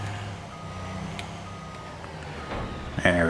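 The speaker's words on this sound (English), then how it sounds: "the Walker, Texas" Reversing beeps sound from a Walker, Texas tanker truck in Farming Simulator 25, a steady repeating tone over low engine rumble, ending with a sharp clunk and hiss.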